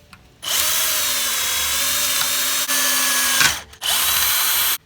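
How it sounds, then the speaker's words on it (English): A power drill whirs at high speed in two long bursts separated by a brief pause, loud and close, with no speech, drilling a center-punched hole for a pop rivet. "Now with that center punch, we can start drilling, and now our drill won't walk around."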